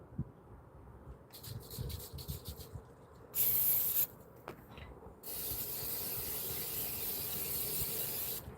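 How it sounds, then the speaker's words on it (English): Soft rustling and handling noises broken by several bursts from a butter spray can while cooking breakfast at a car campsite, short hisses and then one longer steady spray near the end. "lots of butter spray"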